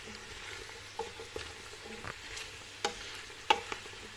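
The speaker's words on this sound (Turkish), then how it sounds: "Bütün sebzelerimizi ekledikten sonra bir taşın daha kavuruyoruz." Mixed vegetables for a Turkish summer stew sautéing in a pan, a steady close sizzle broken by occasional sharp clicks and scrapes of stirring.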